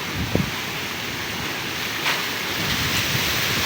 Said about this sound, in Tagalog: Grabe na yung alon, biglang lumaki agad yung alon.